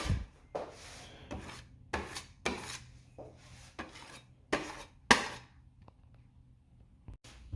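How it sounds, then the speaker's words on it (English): Putty knife scraping and smoothing wood filler into a dent on a wooden table: a series of short, close rasping strokes, roughly one every half second, each a quick scrape on the hard surface. "Use a putty knife to make it nice and smooth."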